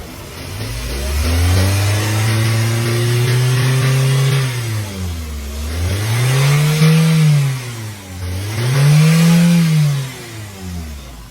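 Toyota Avanza engine, being worked on for overheating, revved repeatedly in a garage: a long held rise then two swelling revs that climb and fall, close and loud with no talking.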